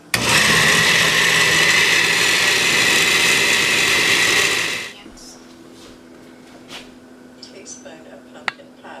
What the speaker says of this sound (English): Now we're gonna blend it.